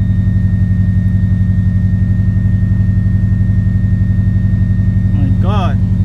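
Subaru WRX engine idling steadily after an ECU replacement, an even, close, rhythmic low throb with a brief squeaky sound near the end.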